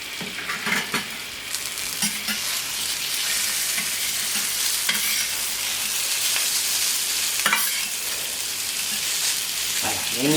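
Mirabelle plums sizzle on a hot plancha set to around 230-240 degrees, a continuous bright frying hiss with occasional soft scraping and clinking of utensils over it.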